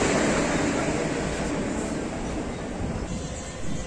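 A train runs on its rails on the route toward Ahmedabad in Gujarat, heard as a steady broadband rumble and roar from inside or near the carriages, continuous and fairly even throughout.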